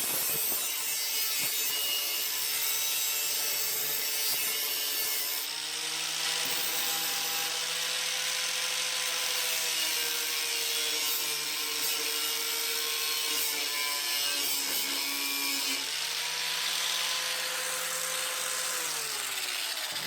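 A grinder works against the metal body panel of a 1965 Pontiac LeMans under restoration. It gives a steady, close, harsh grinding whine for the whole stretch, and its pitch shifts slightly as the pressure changes.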